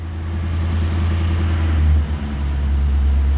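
An 80s hot hatch barn find with a Porsche system runs on its choke, its engine holding a loud, close, steady low idle with a brief dip in revs.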